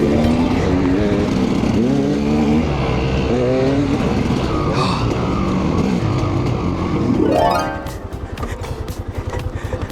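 Kawasaki KLR 650 motorcycle ridden over a bumpy dirt trail, engine droning loud and close with uneven throttle surges, then a rising rev before the sound drops off into jolting rattles.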